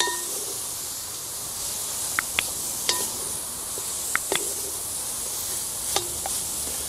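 Spiced meat being stirred in a South African potjie pot, a steady sizzling hiss broken by several sharp metallic scrapes and clinks of the spoon against the pot.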